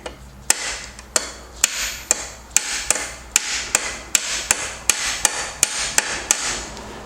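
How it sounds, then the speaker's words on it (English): Steady metallic hammer taps striking a punch to drive a roll pin during transmission range sensor removal on a 62TE transmission, about fifteen sharp hits at an even, unhurried rhythm, close and clear with no talking. "grab your hammer and start tapping"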